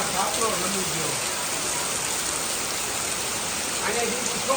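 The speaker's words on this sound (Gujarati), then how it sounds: "આ બાજુ જોઉં તમે જો વરસાદ ચાલુ છે અત્યારે" Heavy rain with wind pours down in the Gir region of Gujarat, a steady, dense hiss that fills the whole clip with no break.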